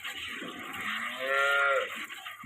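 A dairy cow moos loudly and close by on a dairy farm, one long drawn-out low call rising in the middle, over a steady background hiss.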